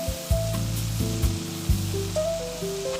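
Tofu crumble seasoned with soy sauce, sesame oil, salt and lemon juice sizzles steadily in a pan, with a few soft thumps and scrapes as it is stirred and mixed; no one speaks.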